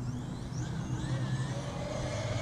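A Traxxas Sledge 6S VXL RC truck with a 22-tooth pinion and 46-tooth spur runs at speed in a speed run, giving a continuous whirring motor whine over rumbling tire noise.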